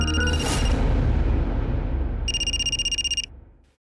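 A telephone rings indoors in a Hindi TV crime drama with a bright, rapid electronic trill lasting about a second. It sounds over a swelling dramatic music bed that drops away right after.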